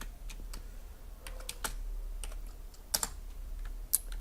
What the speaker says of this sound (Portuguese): Vamos digitar aqui rules